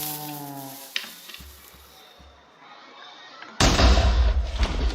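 TNT from the TooMuchTNT video game mod going off in a sudden loud blast after a few seconds of quiet ticking and tones, followed by a dense roaring rumble.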